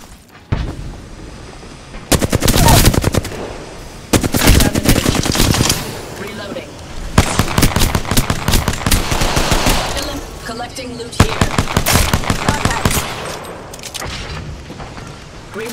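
Heavy gunfire in Apex Legends, loud sustained automatic bursts and booming shots repeating in several waves, close and dense, with a voice talking amid the shooting.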